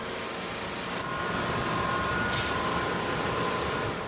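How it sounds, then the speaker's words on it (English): A burnishing machine polishes a concrete floor with a 1500 grit diamond polish, giving off a steady, loud, broadband whirring drone that holds constant throughout, with a brief brighter hiss partway through and no talking. "Started the burnishing process."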